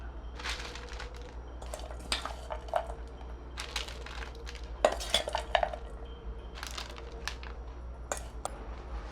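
Spoon scrapes and taps against a bowl while matki bhel is added and tossed, a busy run of close, light clinks and rustles over a steady low hum.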